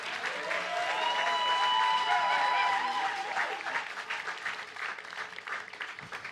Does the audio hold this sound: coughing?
no